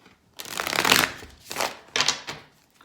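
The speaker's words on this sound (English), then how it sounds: "You can shuffle till cards fly out" Tarot cards are shuffled in three quick riffling bursts, close and crisp, the first longest, with no talking.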